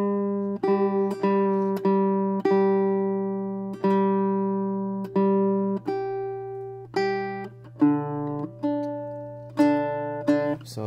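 A Kala SCAC B8 baritone 8-string ukulele being tuned, with single paired-string notes plucked one after another at a steady pace, each ringing out and decaying, close and clear with no talking.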